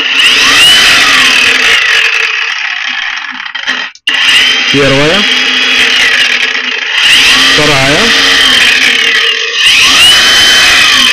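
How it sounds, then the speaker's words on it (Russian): A LUDYVI LB130 cordless angle grinder whines loudly and steadily, cuts out, then spins back up, its pitch shifting between speed settings while a man counts aloud. "Запускается всегда с максимальной скоростью болгарка"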